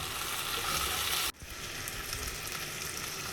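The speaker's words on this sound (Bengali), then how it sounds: "এটা একটু ভেজে নেব, কাঁচা গন্ধটা যাতে না থাকে" Chicken coated in ginger-garlic paste fries in a pan with a loud, steady hiss that dips sharply for a moment partway through, then resumes slightly softer.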